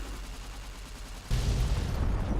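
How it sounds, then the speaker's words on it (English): A nuclear blast in the video game Fallout: New Vegas hits suddenly after a steady background rumble, becoming a loud, dense, sustained roar of boom and crackle that continues to the end. "That is a really weird nuke."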